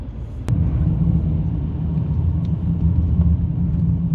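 A BMW 740i V8 cruises at about 50 mph, ticking over at 1500 revs. Its engine and road noise make a steady, deep, low rumble heard from inside the cabin, with a single sharp click near the start.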